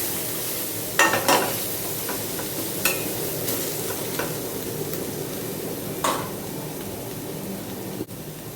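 Two spoonfuls of coriander powder and spices sizzle in oil in a pan for a fish curry, a continuous close frying hiss broken by a few sharp scrapes and knocks of a stirring spoon.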